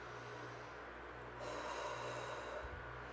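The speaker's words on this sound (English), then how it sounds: "take a breath" A single deep breath drawn in through the nose, a soft sustained airy inhale that swells partway through, close and quiet with no talking.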